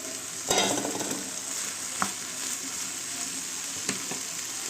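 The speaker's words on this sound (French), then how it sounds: "On va mettre les poivrons." Bell peppers sizzle and fry in a sauté pan for a shrimp noodle dish, with a steady hiss and scattered clinks and scrapes of stirring, close and moderately loud, without speech.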